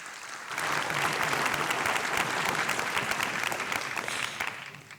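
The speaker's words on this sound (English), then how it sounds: "How about a round of applause for Roger Babcock Jr." An audience applauds at the 2022 Mānoa awards ceremony, steady clapping from many hands that swells in quickly and holds for several seconds before easing off.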